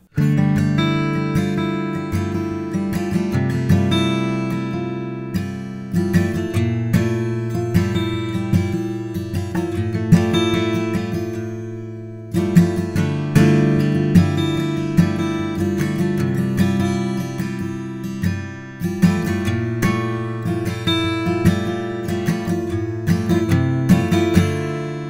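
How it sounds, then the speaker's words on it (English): Guitar chords ring out in a steady sequence, the same shape repeated while the bass note shifts underneath, clear and close with no voices. "you play that shape and then move the root note around, giving you some really nice sounds"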